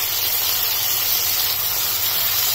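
Chopped tomato lands in a hot pan of sautéed onion for a broccoli gravy, giving a loud, steady, close sizzle and hiss with no talking.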